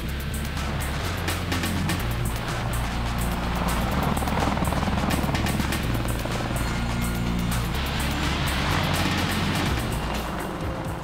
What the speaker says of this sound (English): The Apache aircraft was designed to be a heavy attack platform for the Army